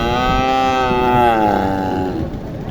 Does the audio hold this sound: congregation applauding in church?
no